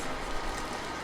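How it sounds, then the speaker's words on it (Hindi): Steady rain falls in a 2D animated story, a dense, even patter of drops on surfaces that runs unbroken and fairly close throughout, with no voices. "पानी बरस रहा"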